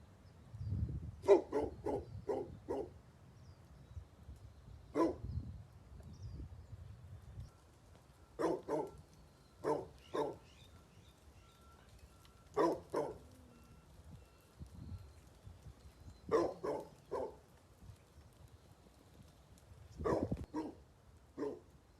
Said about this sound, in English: Anyone want to place a bet on how long this dog can bark